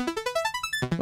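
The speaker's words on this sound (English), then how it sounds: "I do an arpeggio that sounds a bit like this." A Roland Jupiter-4 analog synthesizer plays an arpeggio of quick, bright notes that climb steadily in pitch, then jumps back low to start again.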